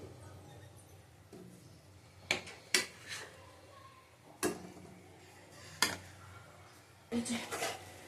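Fried pointed gourd being served into a bowl in a home kitchen, bringing a few sharp, sparse clinks of utensil on dish that stand out over a low room hum, with a brief cluster of taps at the end.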